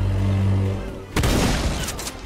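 Video game gunfire from an assault kit weapon: a sustained loud rumble cuts off, then a sharp burst of shots crackles and echoes briefly, close and loud.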